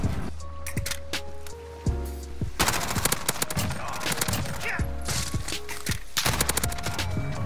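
Rapid automatic gunfire in a first-person shooter video game, sustained loud bursts with sharp mechanical clatter throughout, close and dominant with no speech.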